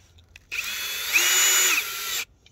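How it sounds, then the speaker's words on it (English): A cordless power drill drives screws back into their original holes during a quick joint repair on a rail tie, one steady whirring burst lasting under two seconds, close and loud, with no talk. "I'll just put these screws back in the holes they were in."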